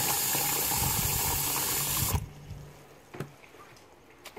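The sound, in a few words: water poured into soda bottle plant pot base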